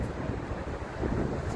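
Steady outdoor wind rushes and buffets against the microphone on a tennis court, a continuous broadband roar with no voices.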